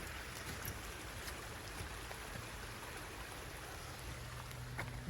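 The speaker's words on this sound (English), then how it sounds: "Hear the stream?" A small stream flows with a continuous, quiet babbling and trickling, with occasional faint splashes and no voices.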